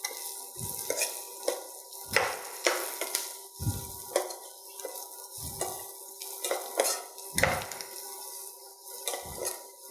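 A utensil scrapes and stirs turmeric, red chilli and salt in a pan at a steady rhythm, roughly every one to two seconds, over a soft background sizzle, with no talking.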